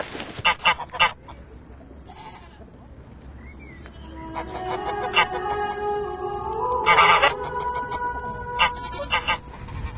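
A goose honks repeatedly, loud and close, in irregular bursts of nasal calls that grow busier and overlap midway, with speech heard between and under the honks.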